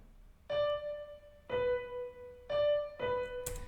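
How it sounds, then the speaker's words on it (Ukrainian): A single piano note struck four times in a slow, even rhythm, each ringing clearly and fading between strikes, quiet and alone. "Перший це звук піаніно."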